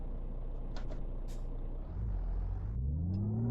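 A heavy truck engine in Euro Truck Simulator 2, with a sound mod, rumbles low and steady, with a sharp hiss of air brakes, then the engine revs up with a rising drone.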